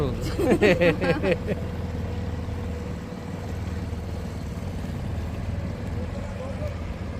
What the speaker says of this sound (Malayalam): ബോട്ട് വരുന്നുണ്ട് ബോട്ട്